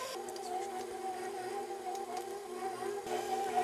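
A stand mixer turns donair meat with its paddle attachment, producing a steady, close motor whir with a constant hum throughout and no voices.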